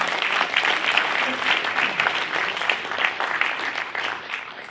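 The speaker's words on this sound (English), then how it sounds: "so can you guys give them a round of applause?" A lecture audience breaks into steady, full applause, a dense continuous patter of many hands at even loudness that eases slightly at the end.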